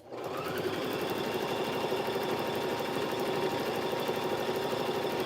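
Sewing machine running steadily at close range, a continuous rapid mechanical whir with fine repetitive stitching ticks throughout, no talking.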